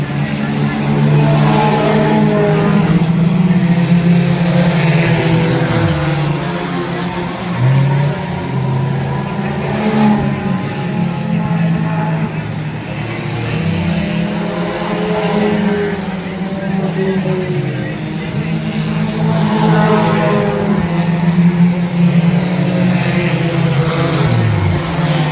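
Eco stock race cars in a feature race roar steadily around a track, engines droning loud and continuous with passing swells, while an announcer talks over the action throughout.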